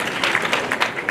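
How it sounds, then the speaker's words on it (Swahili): Applause at a public event in Murang'a, a steady wash of clapping with a few louder bursts rising and falling over just over a second, fairly close and dense. "Pigeni makofi."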